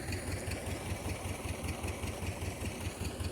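A tractor engine runs steadily while ploughing a field after rain, a continuous low rumble with a regular pulsing beat, loud and close, with no voices.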